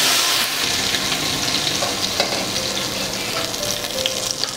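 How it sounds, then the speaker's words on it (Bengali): Very hot oil poured over kacchi biryani ingredients topped with chopped almonds, giving a loud, close, continuous sizzle with faint stirring and crackle throughout, no talking. "এর মধ্যে আমি একদম গরম তেল ঢেলে দিলাম।"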